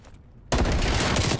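Gunfire in a Call of Duty match opens abruptly after a quiet moment, a loud, dense burst of rapid shots that continues without pause.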